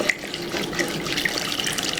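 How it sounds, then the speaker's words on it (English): Stock poured into a pot of thick turkey gravy, a steady close liquid pouring and splashing sound lasting throughout without any talk. "Keep on adding my stock."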